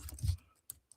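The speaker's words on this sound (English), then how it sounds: "I'm just typing in some of my notes." Fingers type notes on a computer keyboard indoors, a quick flurry of soft clicks followed by two isolated keystrokes, close and fairly quiet with no talking.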